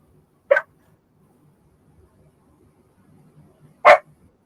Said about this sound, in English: Now we're barking.